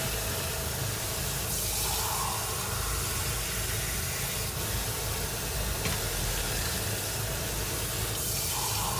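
A steady rushing hiss of water pouring into a pot of mung bean stew, close and continuous for several seconds, with no voices.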